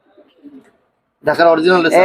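Pigeons in a loft: faint soft cooing at first, followed by a loud burst of close cooing with a voice speaking over it.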